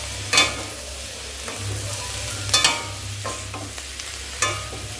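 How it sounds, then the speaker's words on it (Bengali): Potatoes fry in a pan with a continuous close sizzle, broken by a few sharp scrapes and taps of the spatula as they are stirred, no talking. "একটু বাকি আছে আলুটা ভাজতে"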